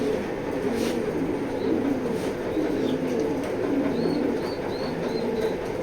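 Racing pigeons in a loft coo low and steadily, with a few brief higher chirps from other birds over a constant background rumble.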